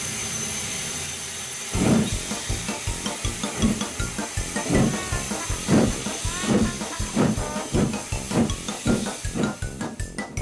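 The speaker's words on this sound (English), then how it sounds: "Release the steam brake, open the regulator, blow the whistle, and we're off." Steam locomotive pulling away, opening with a steady hiss of escaping steam before a rhythmic series of loud, evenly spaced chuffing exhaust beats that gradually quicken as the engine gets under way.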